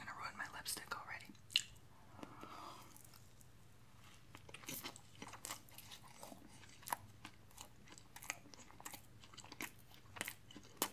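Someone eats a purple donut with orange and brown sprinkles close to the microphone, with soft bites, crunches and wet chewing clicks scattered throughout, plus some quiet whispered sounds.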